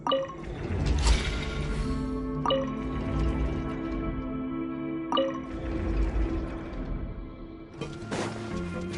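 Water fills and rises inside a chamber in Genshin Impact, heard as steady dripping and trickling liquid with recurring splashy bursts over a low mechanical hum, fairly close and continuous, with no voices.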